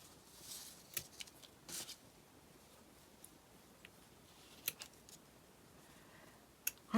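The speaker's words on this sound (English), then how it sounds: "Cut the jute down." Scissors snip through jute twine in a quiet room, making a few scattered, soft crunching cuts and clicks spaced out over several seconds.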